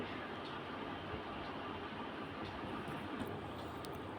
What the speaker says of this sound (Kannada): ಈಗ ನಾವೆಲ್ಲ ಕೊಟ್ಟೂರು ಜಾತ್ರೆಗೆ ಟ್ರೈನಲ್ಲಿ ಹೋಗ್ತಾ ಇದ್ವಿ.